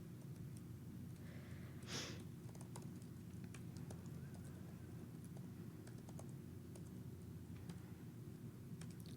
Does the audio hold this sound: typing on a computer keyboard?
yes